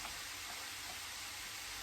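A steady, close sizzle of vegetables frying in a hot pan, constant and hissing throughout with no talking.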